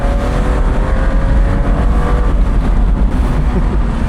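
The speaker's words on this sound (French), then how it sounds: "le petit 2 litres a pour lui une sonorité encore plus flatteuse, je vais vous la faire écouter" Vintage BMW 2-litre six-cylinder engine running hard nearby, a loud, dense, steady rumble with slight pitch sweeps and no voices over it.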